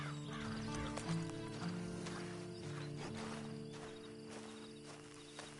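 A horse in the video game Red Dead Online gives faint hoof clops and a snorting whinny over a steady low background hum and ambient game sound.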